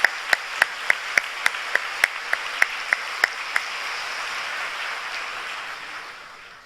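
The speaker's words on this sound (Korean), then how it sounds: "아버지 앞에 모든 감사와 영광의 박수를 힘차게 올려드리겠습니다" A congregation at a Friday overnight church service claps in unison, about a dozen sharp, evenly spaced beats over a wash of scattered clapping. The applause then carries on steadily and fades away toward the end.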